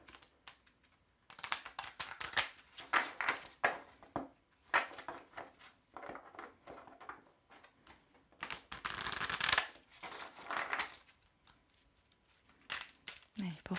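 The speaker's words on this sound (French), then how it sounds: "C'est vrai que les cartes sont un petit peu grandes. Du coup, on va faire ça comme ça pour les mélanger." Large oracle cards being shuffled by hand, giving repeated bursts of papery riffling and flapping in uneven rhythm, close and moderately loud, with short pauses between the bursts.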